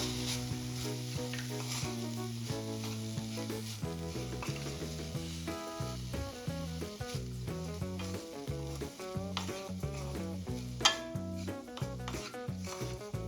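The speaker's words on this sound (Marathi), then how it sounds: "आता हे सर्व साहित्य एकदा मिक्स करून घेऊया" Chicken filling with dark soy sauce, chili flakes and salt stirred together in a pan, a quiet sizzle and scraping of the spoon running beneath melodic background music throughout.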